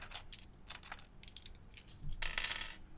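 Plastic keycaps being pulled off a keyboard and dropped, a series of light clicky clatters and rattles, close and fairly quiet, with a denser jangle of caps near the end.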